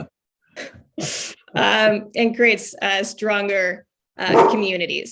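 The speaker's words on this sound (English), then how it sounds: "that's my dog." A dog barks a few times in the background of a remote legislative committee meeting, its short yaps mixed in between and under a person speaking close to the microphone.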